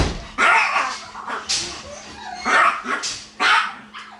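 A needy dog barks loudly and close by in four or five sharp, separate bursts indoors, with a quiet pause between each and little else around.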